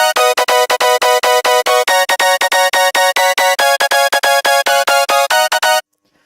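Eurobeat synth pattern of fast, punchy, evenly repeating chord stabs, loud and dense, running without pause before cutting off abruptly into silence.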